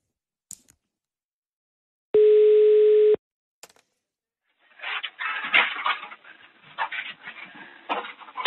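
A single steady telephone ringback or dial tone sounds for about a second, followed by a burst of rustling, crackly noise on a phone line during a call made on a Danish radio programme.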